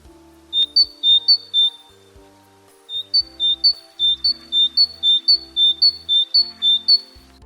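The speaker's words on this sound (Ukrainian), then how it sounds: "Це малесенька синичка." A small tit sings clear, high two-note whistled phrases, repeated rapidly in a rhythmic series after a short pause, loud and close over faint soft background music.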